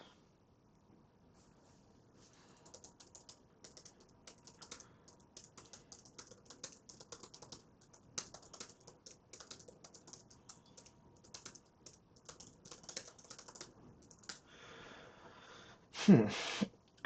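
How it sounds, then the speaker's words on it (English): Rapid typing on a computer keyboard, a long run of soft, irregular key clicks and bursts, close and fairly quiet, ending with a louder clatter. "It's hard to commentate while typing."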